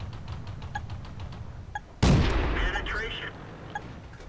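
Tank cannon fire in World of Tanks: a single loud, sudden blast about halfway through that cuts off a stretch of quiet mechanical ambience, followed by a decaying rumble and ringing game effects.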